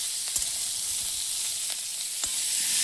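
Boiled cauliflower fries in a hot pan with a bright, continuous hissing sizzle, punctuated by a few sharp knocks of a spatula against the pan; no voices.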